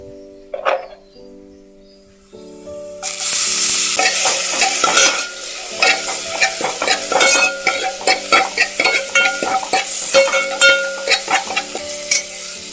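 Tomatoes hit hot oil in a pan for crab curry: after a few quiet clinks, a loud sizzle bursts in and carries on under repeated rhythmic scraping and stirring strokes of a spoon, close up with no talk.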